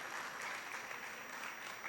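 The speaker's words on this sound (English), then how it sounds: "A big round of applause for this visionary madam." Audience at a Montessori pre-school graduation ceremony applauds, a soft, steady patter of many hands clapping at a distance, sustained throughout.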